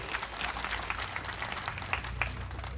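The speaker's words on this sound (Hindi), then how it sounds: "तो एक बार हमारे प्रदीप जी के तालियां बजा दीजिए प्रदीप जी के लिए।" An audience at a Khadi and Village Industries distribution event applauds for Pradeep. The dense clapping stays steady throughout, with scattered sharper claps standing out and no speech over it.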